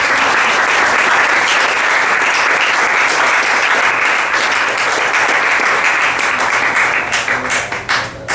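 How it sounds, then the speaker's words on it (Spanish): A church congregation applauds during a Spanish-language sermon, a loud, dense wash of clapping that holds steady for about eight seconds before beginning to break up. "Vamos a dar un aplauso al Señor, amén."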